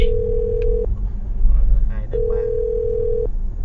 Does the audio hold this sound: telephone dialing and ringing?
yes